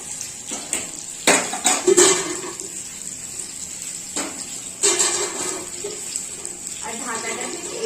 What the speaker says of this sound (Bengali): তো এখন আমি ডালটা সেদ্ধ করার জন্য বসিয়ে দিচ্ছি